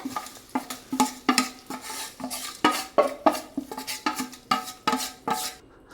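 Payasam of dried rice and split green gram, with fried cashews, raisins and coconut bits, being stirred in a pot: a steady run of scraping, clinking spoon strokes against metal, loud and close, with no talk.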